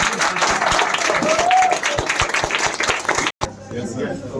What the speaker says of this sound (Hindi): तुम लोग अगर ताली बजा रहे हैं तो बढ़िया